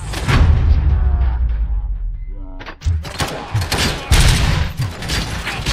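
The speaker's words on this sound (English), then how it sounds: "Am I hearing gunshots?" Dense bursts of rapid gunfire in RoboCop: Rogue City crackle almost continuously, with a brief lull midway before heavy shots resume, loud and close with busy synthetic effects.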